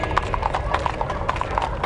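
Horse hooves clip-clop in a quick, steady rhythm, close and clear over a busy low background.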